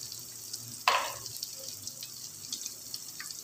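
Potatoes drop into a pot of boiling soup water for vegetable soup, one sudden splash and sizzle over a quiet bubbling hiss, with a few small drips after.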